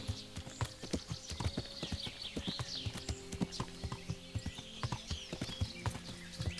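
Horse hooves clip-clopping at a quick, steady rhythm in the Kingdom Come: Deliverance video game, fairly quiet, with faint creaks of tack in the background.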